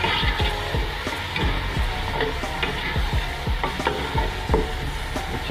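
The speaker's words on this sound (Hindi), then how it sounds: "अच्छी तरह भूनने के बाद हम इसको इस तरह भूनेंगे कि टमाटर और प्याज मैश हो जाएं" Tomatoes, green chillies and onions are stir-fried for a daal and rice dish. A steady sizzle runs under the repeated scraping and clatter of a spoon stirring the pan.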